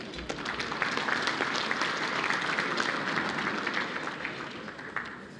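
Steady, full applause from a big crowd at a formal business awards night, many hands clapping continuously at an even level from start to finish, with no voices.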